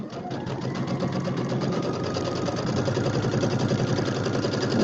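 Sewing machine stitching quilt blocks for a pineapple-pattern quilt, a fast, even run of needle clatter that continues steadily and close by without pause.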